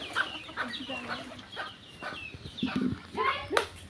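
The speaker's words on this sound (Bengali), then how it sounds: "দেশি মুরগি পালন করা হয়" Several desi hens cluck and chatter nearby in short, overlapping bursts, with faint voices in the background.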